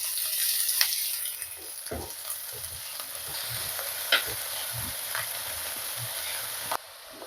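Chopped onions fry in oil in a pan, a soft steady sizzle with occasional scraping stirs and clinks, fairly quiet and close.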